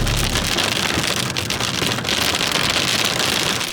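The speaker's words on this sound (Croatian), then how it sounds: "Iako je kiša bila sve jača i jača, a vidljivost sve slabija i slabija" Heavy rain pounds on a Zastava 750 Fićo during a violent storm, a dense, loud, continuous hiss and patter of drops on the car's body that fills the whole stretch.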